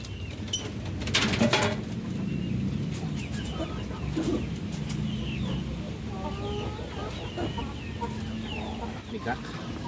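Roosters and hens cluck and call nearby in a farmyard, short scattered clucks over a busy background with a louder burst early on and some faint voices.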